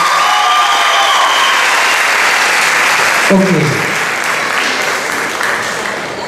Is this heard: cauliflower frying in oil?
no